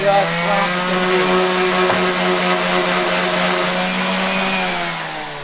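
A palm sander works wood pieces for a box shelf with a loud, steady whining drone held for several seconds, close by and slowly fading at the end.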